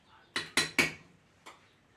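Utensil clinks against a mixing bowl while banana bread batter with vanilla is stirred, three quick close knocks in a row and then one softer tap after a short pause.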